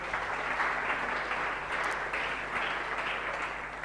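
A congregation claps together in a sustained round of applause at a French-language religious gathering, a dense, steady patter of many hands filling the room.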